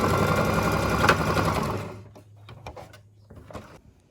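A sewing machine runs steadily for about two seconds while stitching a garter tunnel in tweed skirt fabric, then stops and leaves only light handling clicks and rustles.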